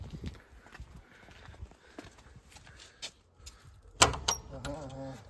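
A door is opened at a pigeon loft, making a sharp close clatter and rattle after several seconds of quiet shuffling, knocks and footsteps, with voices faint in the background.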